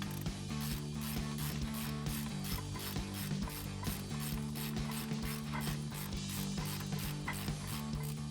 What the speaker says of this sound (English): Once we've got them broke loose, we can use our ratchet to finish taking them out.